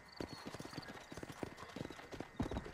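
A horse gallops in Red Dead Redemption, its hooves drumming in a quick, steady clip-clop rhythm, fairly soft and close, with a faint background tone.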